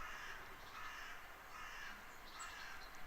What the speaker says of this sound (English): Crows laugh and call, surrounding the body of a hawk and prodding at it with their dark wings.